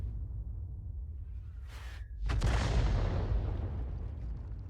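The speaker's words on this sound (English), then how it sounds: "Yabaz pumping those shells out at the enemy as fast as he can" A tank cannon fires in a video game, one close heavy boom with a long rumbling tail after a brief mechanical whine.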